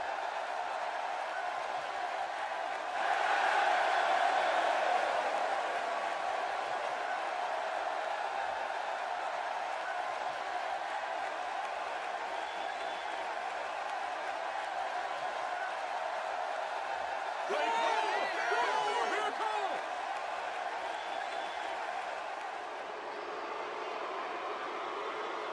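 Wrestling arena crowd in Cleveland at a night show, a steady roar of many voices filling the hall, swelling louder near the start and again later, with a commentator talking over it.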